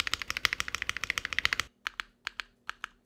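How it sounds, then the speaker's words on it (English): Spacebar on a Ginkgo65 mechanical keyboard, first struck in a fast run of rapid clacky presses, then tapped singly with a few spaced, crisp thocks, close and alone. "One of the reasons that I would put this below the Vega would be that the space bar doesn't sound as good."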